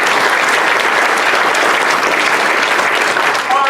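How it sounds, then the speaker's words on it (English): Steady, dense applause from a large audience at an arts and business awards ceremony, sustained throughout with no break, close and loud, and a faint voice briefly emerging at the very end. "a round of applause to Kwantlen Polytechnic University"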